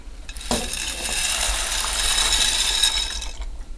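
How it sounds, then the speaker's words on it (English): One box of dry penne pours into a pot of boiling salted water, a steady, close rattling cascade of hard pasta pieces that lasts about three seconds and then stops. "And then I'm going to pour in my pasta."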